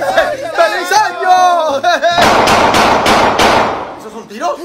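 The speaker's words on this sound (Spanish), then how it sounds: "¿Esos son tiros?" Rapid bursts of gunfire crackle at a Latino New Year's celebration, loud repeated shots following lively talk and shouting among people.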